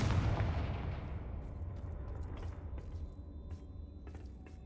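Confringo spell explosion in the Hogwarts Legacy video game: a heavy, booming blast that rolls off into a long decaying rumble, followed by faint scattered crackles and debris ticks.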